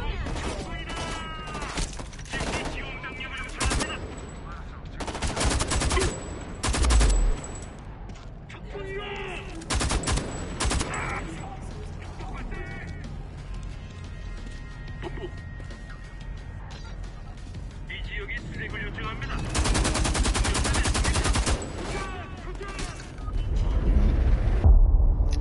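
Gunfire in the video game Homefront: The Revolution, with repeated loud bursts of shots and crashes against a dense, noisy game backdrop across the whole stretch.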